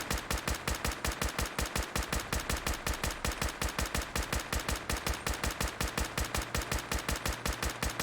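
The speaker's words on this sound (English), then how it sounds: "it's a combat rifle that has a ridiculous fire rate" Combat rifle in Fallout 4 firing on full auto with a very high fire rate, a fast, steady stream of loud, evenly spaced gunshots running unbroken for the whole stretch with no voices.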